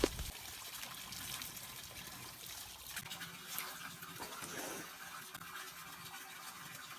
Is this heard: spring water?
yes